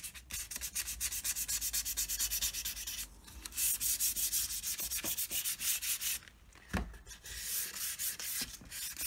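Sandpaper of 400 grit rasps back and forth over a Squier Mustang guitar neck in steady, close strokes, pausing briefly partway through before the rhythmic scrubbing resumes.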